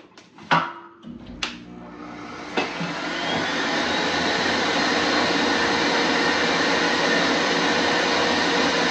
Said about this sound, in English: you will hear the dryer